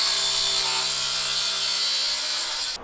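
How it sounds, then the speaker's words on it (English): A power drill whirs steadily as it drives screws into the wooden deck of a flatbed trailer, a loud sustained buzz close by that cuts off abruptly at the end. "Took me a while to go look for the right drill bit for these right screws so they zip right in"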